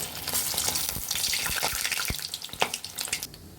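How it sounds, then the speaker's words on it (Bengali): Mutton tikia kebabs fry in oil in a wok over medium-low heat; oil crackles and sizzles steadily, with scattered louder pops and a few clinks, close by and without talk. "আমরা এখন তেলে ভেজে নিব আমরা কড়াইতে তেল দিয়ে দিয়েছি"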